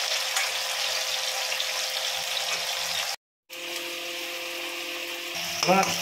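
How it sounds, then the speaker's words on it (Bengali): Potatoes frying in a generous amount of cooking oil in a home kitchen, a steady broadband sizzle running throughout, broken by a brief dropout, with a short squeak near the end. "আলুটা ভাজা হোক।"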